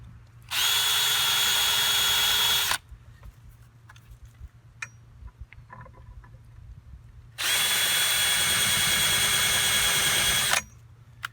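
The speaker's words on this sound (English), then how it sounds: "we're going to go ahead and drill it through" Two loud bursts of a power drill whirring as it drills starter holes through a floating dock, each lasting about two seconds, separated by quieter clicks and handling noise.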